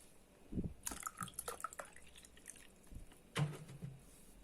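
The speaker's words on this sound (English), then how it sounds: "Add a little more water to it." Water poured into a pot during outdoor cooking of Jamaican fried plantains, heard as a few short splashing pours and drips, close and moderately loud, with quiet pauses between.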